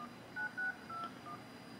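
Touch-tone dialing on a phone to call someone: a short series of distinct DTMF beeps in an uneven rhythm, close and clear over faint room noise.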